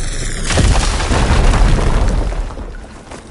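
A loud, booming explosion blows open a blocked tunnel in Horizon Forbidden West: after a brief lead-in, a heavy low rumble starts near half a second in and rolls on for about two seconds before tailing off.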